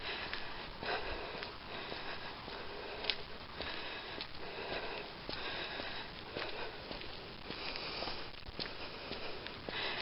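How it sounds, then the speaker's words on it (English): Heavy, labored breathing from someone walking uphill outdoors, steady repeated breaths close to the microphone, with faint footsteps and no talking. "You might hear my labored breath already."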